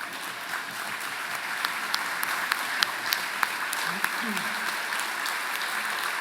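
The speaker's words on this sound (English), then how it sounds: "let us applaud you if you're in the room" An audience at an innocence-project benefit gala applauds its volunteers with steady room-filling clapping and a few sharper individual claps. A voice briefly speaks over the applause.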